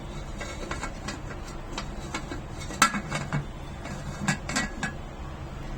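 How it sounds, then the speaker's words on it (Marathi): Repeated light metallic clicks and clanks, a pressure cooker lid being fitted and locked on, fairly close with a faint background hum. "कुकरचं झाकण लावून घ्यायचंय"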